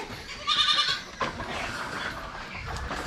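Goats on a small goat farm bleat nearby, one loud call followed by quieter rustling and farmyard noise, with no talking.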